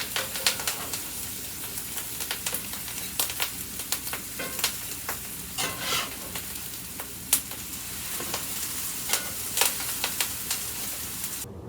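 A Reuben sandwich on sourdough pumpernickel bread toasts in a pan with a steady, close sizzle, broken by scattered clicks and scrapes that are likely a utensil against the pan. No one speaks.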